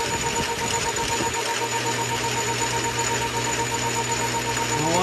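Metal lathe running steadily while wool polishes a metal taper, a loud continuous mechanical whir with a rough rubbing texture and a steady hum throughout.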